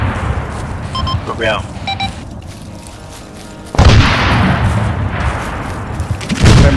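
Arma 3 gunfire erupts in loud bursts partway through a battle in an Afghan village, with radio-style beeps and a voice speaking over the noise.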